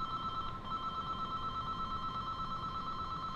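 A telephone rings with a steady electronic trill that holds for several seconds at moderate volume in a quiet room, with no voices.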